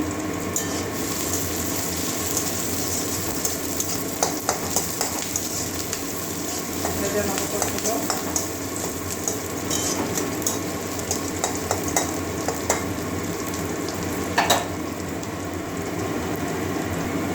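Whole cloves, cinnamon sticks and cardamom pods sizzle steadily in hot oil with onion frying in a pan, a continuous close crackle broken by a few sharper stirring clinks, with no talking.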